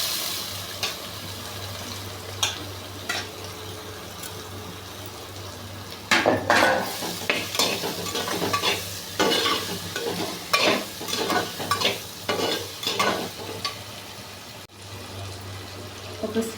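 Boiled, drained mushrooms and peas hit a hot pan for curry and are stirred, sizzling and frying with scraping spoon strokes that grow busier partway through, close and moderately loud.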